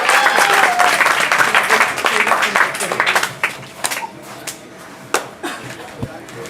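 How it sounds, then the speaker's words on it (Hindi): Loud audience applause at an open mic poetry gathering (kavi sammelan) rings out densely for about three seconds, then thins into scattered individual claps as it dies away. "जोरदार तालियां भाई, बजाते रहो जब तक वो यहाँ आएगी।"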